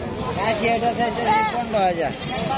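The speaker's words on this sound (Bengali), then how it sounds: "আমার এই ছাগলগুলো কিনে আনছে" Goats bleat at a village goat market in Bangladesh, several wavering calls overlapping near and far while a crowd chatters and people talk underneath.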